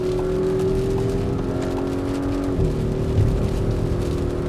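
A 2018 Audi SQ5 accelerates steadily to pass a truck on a rainy California road, its engine drone rising in pitch under constant road and tire noise, heard from inside the cabin with no talk.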